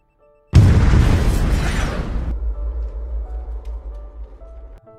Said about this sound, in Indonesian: Bomnya pun akhirnya meledak seketika.